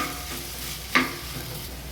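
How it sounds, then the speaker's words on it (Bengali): Lemon butter prawn noodles are stirred in a hot pan, giving a soft steady sizzle with one clear scrape of the utensil partway through, and no voices. "খুব অল্প নুন ছড়িয়ে এবার সব কিছু ভালো করে মিশিয়ে নেব"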